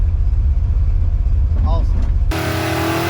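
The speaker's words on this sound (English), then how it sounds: "That's leaving the line, slipping the clutch a little bit" A 200-horsepower drag car leaves the starting line with the clutch slipping, a rough engine drone that abruptly switches to a loud, sharp, sustained high-revving note partway through.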